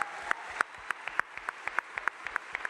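A crowd at a NASA press event announcing the Artemis II crew claps briefly and quietly, with a series of distinct, fairly regular claps that stand out against a faint, hushed room.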